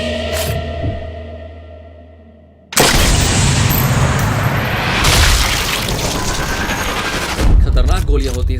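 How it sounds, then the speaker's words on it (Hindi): Sniper rifle fire in the video game Sniper Elite 4: a sudden loud boom followed by a sustained rumbling blast and echo, then another sharp burst near the end, with commentary over it. "खतरनाक गोलियां होती है स्नाइपर गन की।"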